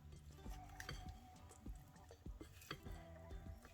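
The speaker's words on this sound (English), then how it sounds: "So I'll go ahead and mix it up." Shrimp mixed by hand tool with spices and onion powder in a bowl: quiet, wet squishing and stirring with scattered light clinks, close and soft.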